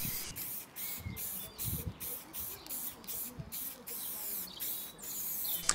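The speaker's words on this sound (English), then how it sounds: "I use some cream spray paint to coat them before attaching to the letters." Cream spray paint hisses onto strips of scuffed aluminium flashing in a series of short, repeated bursts, each followed by a brief pause, fairly close and steady.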